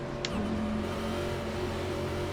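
Race car engine in NASCAR iRacing at Chicagoland Speedway, a steady droning hum of several cars idling behind the pace car, continuous and fairly loud with no talk.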